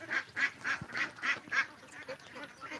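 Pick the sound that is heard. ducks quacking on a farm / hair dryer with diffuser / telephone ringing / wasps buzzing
ducks quacking on a farm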